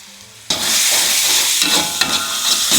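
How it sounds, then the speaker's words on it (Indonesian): Ground spice paste for Manado-style rica is sautéed in a pan. A quiet moment gives way to a sudden, loud, close sizzle that holds steady, with a few stirring scrapes breaking through. "Tumis sampai matang."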